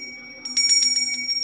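A small bell rings in about six quick, bright strikes, close and fairly loud, over a steady low hum.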